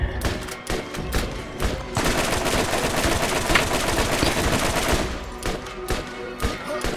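Rapid automatic gunfire from the video game Borderlands crackles in dense bursts throughout, loud and continuous in the middle, with sporadic single shots at the start and end.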